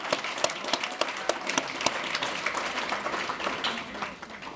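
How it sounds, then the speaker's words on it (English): An audience at a Marijuana Anonymous convention in San Francisco applauds, a full spread of clapping with some sharp individual claps standing out, tapering off toward the end. "give her a big round of applause"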